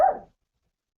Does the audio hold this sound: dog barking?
yes